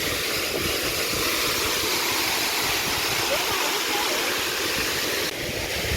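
Water rushing at Palasdhari dam during heavy rain, a loud, dense, unbroken roar of flowing water heard close by, with no clear talk over it.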